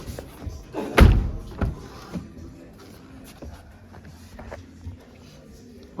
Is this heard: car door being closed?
yes